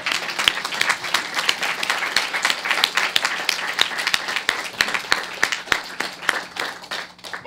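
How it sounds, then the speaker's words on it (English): An audience applauds steadily, many hands clapping in a sustained, lively burst that carries on without pause. "could y'all give her a round of applause?"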